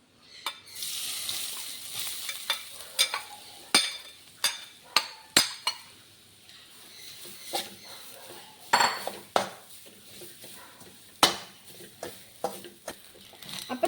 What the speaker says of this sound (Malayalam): അപ്പം നമുക്ക് തേങ്ങ ഇട്ടൊന്ന് മൂപ്പിച്ചെടുക്കാം.